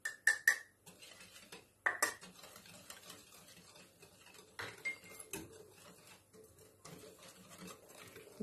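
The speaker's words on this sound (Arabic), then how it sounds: "نضرب كده الخليط كويس" Batter for a chocolate zucchini cake is whisked in a bowl, with a few loud utensil clinks against the bowl at the start and then a quieter irregular scraping and tapping rhythm, nearby and moderately soft.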